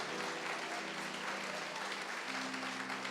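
A church congregation applauds, a dense, steady wash of many hands clapping together that fills the room evenly for a few seconds, with faint voices underneath.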